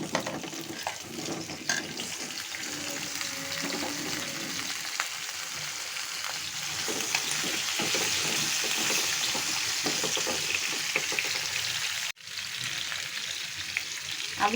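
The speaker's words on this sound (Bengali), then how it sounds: "এখন এই তেলেই আমি একটু পটল আর আলুগুলো ভেজে তুলব।" Potatoes and pointed gourd fry in hot oil in a pan, giving a steady, close sizzle with crackles and stirring scrapes, briefly dropping out near the end before resuming.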